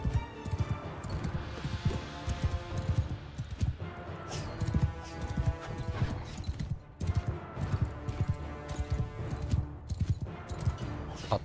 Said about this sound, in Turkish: Atlar da alalım. Atlar da gelsin.